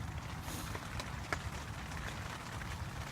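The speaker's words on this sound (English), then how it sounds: "It's raining pretty hard." Heavy rain pours down outside a loosely built, semi-enclosed makeshift shelter, a steady dense hiss with scattered drips and patters close by, continuous and fairly faint throughout.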